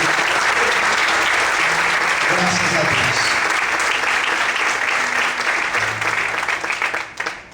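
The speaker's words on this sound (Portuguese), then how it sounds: "Você pode aplaudir bem forte ao Senhor nessa manhã." Church congregation applauding loudly during a morning service, sustained dense clapping with voices calling out over it, fading away at the very end.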